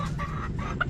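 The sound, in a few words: chicken clucking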